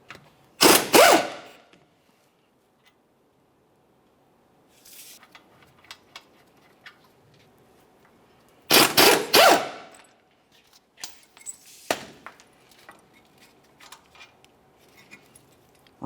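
Ratchet wrench turning 15mm caliper bracket bolts on a 2001-2005 Ford Explorer Sport Trac front brake, with sharp close bursts of clicking and metallic clatter separated by quiet gaps and small tool knocks.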